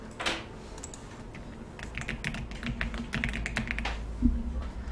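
A computer keyboard is tapped in a series of quick, irregular keystrokes, close and fairly quiet, during a basic office-software lesson on building tables.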